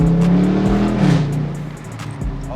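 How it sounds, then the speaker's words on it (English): A 2022 Dodge Charger Scat Pack widebody on stock mufflers downshifts, its loud close engine note surging with a quick rev blip before settling back down. "Let's go ahead and give you guys a little downshift so you guys can hear it."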